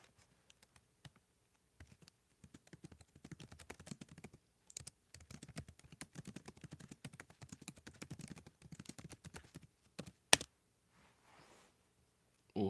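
Typing on a computer keyboard, close and fairly quiet, in steady bursts of rapid clicks with short pauses, then a sharp click and near silence at the end.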